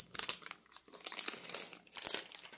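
Glued Pokémon booster pack wrapper being torn open, a close crinkling of foil plastic in bursts of crackling and tearing with short pauses between.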